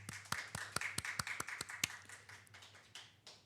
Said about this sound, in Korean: 옳다고 생각하는 분 박수.